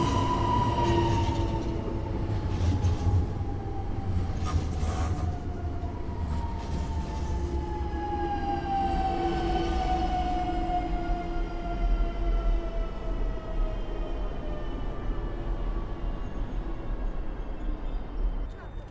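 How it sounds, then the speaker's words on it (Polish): An SKM commuter train on line S2 runs through Warsaw Powiśle station with a loud, steady rolling rumble and drawn-out wheel squeals that slide downward in pitch, heard close throughout. "SKM-ka na linii S2 z Rembertowa"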